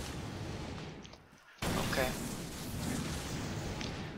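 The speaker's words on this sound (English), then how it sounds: "What the hell is with all the explosions?" Booming blasts and rumbling explosions from Garry's Mod roll continuously, with a sharp loud burst midway, dense and chaotic like battle effects.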